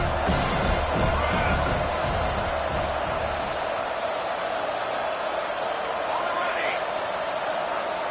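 A stadium crowd roars steadily in an NCAA college football video game during a Florida State versus Miami rivalry game, a dense, sustained wash of noise with scattered louder swells, filling the whole span.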